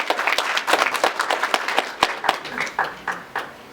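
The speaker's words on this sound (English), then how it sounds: "let's give them a round of applause" Audience applause at a downtown Oxnard community planning session, with dense, loud clapping from a crowd rising and falling in waves throughout, with a few sharper individual claps standing out.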